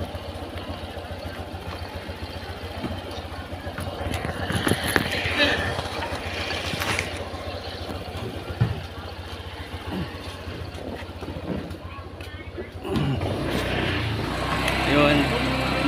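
A motorcycle engine runs steadily during a ride in Bagac, Bataan, giving a continuous low rumble that grows louder near the end as it pulls away, with people talking over it.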